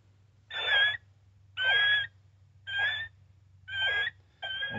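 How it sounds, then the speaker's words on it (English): A Cass Creek Predator 2 electronic caller plays a rodent squeal as five evenly spaced, drawn-out squeaky cries of about half a second each, moderately loud over a low steady hum. "And a rodent squeal."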